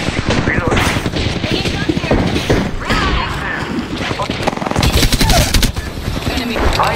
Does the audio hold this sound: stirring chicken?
no